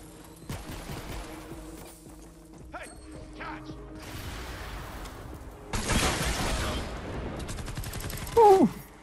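Gunfire from the Fortnite: Save The World video game comes in scattered bursts and rattling volleys, mixed with mechanical clatter and swishes, loud and close in a busy fight.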